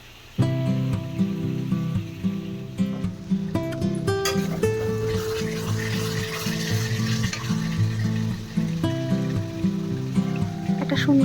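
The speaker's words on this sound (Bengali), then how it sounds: "এবার হাই ফ্লেমে এটাকে ভালো করে কষিয়ে নেব।" Golbari-style chicken kosha cooking on a high flame, a continuous sizzle with stirring scrapes, heard under steady background music.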